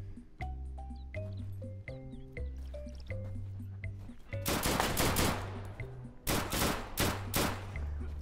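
Enemy gunfire in the survival shooter Deadside: a tapping, rhythmic lead-in, then heavy automatic bursts that crack in loud and close, with a second volley near the end.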